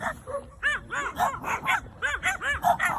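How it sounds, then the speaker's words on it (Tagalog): Several dogs bark and yip repeatedly in quick overlapping bursts, close by and moderately loud, with no talking. "Pine-welcome po kami ng mga aso dito."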